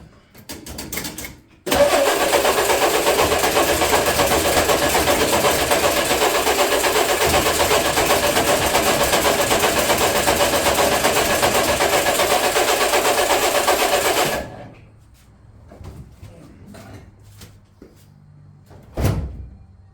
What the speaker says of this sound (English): let's see how the battery cranks over and we'll go from there